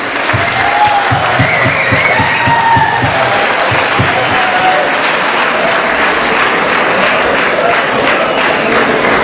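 A large audience at an Indian cultural night in Yerevan, Armenia applauds steadily for several seconds, the clapping dense and sustained at an even level with some crowd murmur mixed in.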